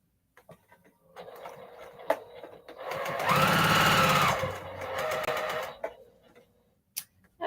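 A sewing machine runs a short burst to lock the end of a fabric seam, a loud steady whir for about two seconds, with light clicks and handling noises before and after.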